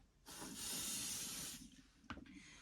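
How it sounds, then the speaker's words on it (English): An aerosol can of Pixie Spray adhesive hisses in one steady burst of about a second and a half onto tissue paper, close and clear, followed by a short clatter and faint handling noise. "So I'm just going to spray this off camera over here on this tissue paper that I have."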